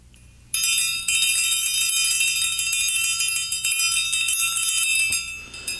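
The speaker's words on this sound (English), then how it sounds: "the clapper is actually hitting the tines, so they tend to be a fairly gentle sound" Small bells ring out in a bright, shimmering cluster, sustained and fairly loud, with gentle overlapping strikes of clappers on thin tines that decay slowly toward the end.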